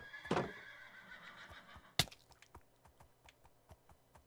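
Horse or donkey whinny in Minecraft, a loud neigh near the start followed by a sharp crack and then a run of quick clip-clop hoofbeats.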